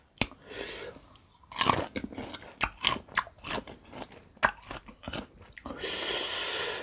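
Close, crunchy chewing and biting of sour marian plum dipped in spicy jaew sauce, with irregular wet crunches and pauses between bites.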